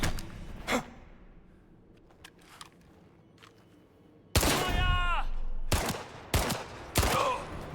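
Gunfire in a shooter video game comes in a few short bursts, with a loud sustained volley in the second half and sharp cracks after it, mixed with breathy vocal sounds.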